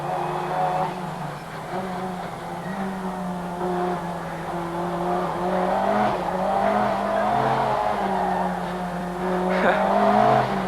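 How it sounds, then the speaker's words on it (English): A 500-horsepower car from 1989 lapping a track, its engine droning steadily close by with rising and falling revs as it corners and snaps to oversteer, with faint tire squeal; no one speaks. "Tending to understeer into the corners and then snapping to oversteer when the brute power of 500 horsepower is applied."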